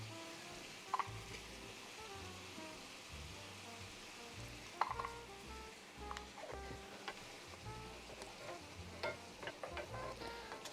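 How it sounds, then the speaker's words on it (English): Peppers and onions with Johnsonville Italian sausages sauteing in a pan, a low steady sizzle with occasional faint taps and scrapes, quiet and close, with no talk. "we want to leave this to saute a while"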